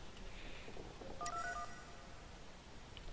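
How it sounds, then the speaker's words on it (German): A telephone in the video game Sleeping Dogs gives a short electronic ring burst of tones in the middle of a quiet, low-level background, then falls silent. "Da war doch gerade das Telefon"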